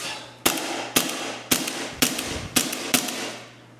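A Raptor/Lambda SR-2M gas blowback airsoft replica cycles six times in a quick, even rhythm: sharp, loud metallic cracks about half a second apart over a faint low hum, with no voices.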